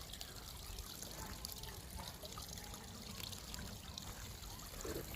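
Water from a small waterfall trickles into a lake outdoors, a faint, steady, continuous splashing and dribbling with no clear talking.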